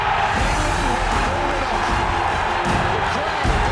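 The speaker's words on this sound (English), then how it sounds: "The crowd goes ballistic." A packed cricket crowd at Edgbaston roars continuously as England win the 2005 Ashes test, a loud, unbroken wall of cheering and whooping with a commentator's voice woven through it.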